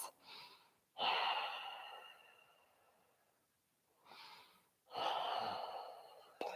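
Deep, slow breaths in a hatha yoga class: two full inhale-exhale cycles, each a long breathy rush of air with audible throat texture, close and alone with quiet gaps between.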